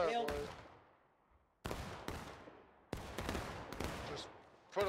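Independent musket fire in the Civil War game War of Rights, scattered sharp shots cracking at uneven intervals, some overlapping, each followed by a long echoing decay across open farmland.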